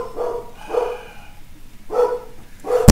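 A pet dog barks at home during a livestreamed game session, giving four loud close barks in two pairs separated by a short pause.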